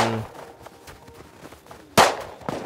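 Gunfire in the survival video game Rust, a few sharp shots with one loud close crack near the end, set against quiet game ambience.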